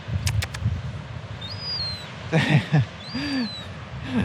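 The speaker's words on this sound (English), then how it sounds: "look at this little seagull, the young seagull." Several high, thin calls from a young seagull on a Cornish cliff edge, short squeaky cries repeated with pauses over wind noise, fairly close.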